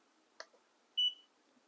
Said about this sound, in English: I also have a buzzer.